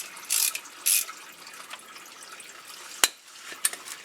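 A ratchet loosening the pan bolts on a Dodge 45RFE/545RFE automatic transmission, heard as a few short metallic clicking bursts close by, with scattered clanks and a sharp knock near the end.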